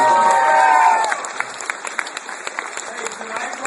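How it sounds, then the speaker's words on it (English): A crowd at a Boondock Saints comic convention panel cheers briefly, then breaks into scattered applause with individual claps and murmuring voices in a large hall. "round of applause for"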